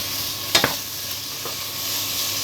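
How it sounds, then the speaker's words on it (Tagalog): Drained Korean vermicelli noodles fry in a pan with a steady sizzling hiss, broken by a couple of quick stirring scrapes and clatters early on. "After washing, drain the water and then you can fry it like this."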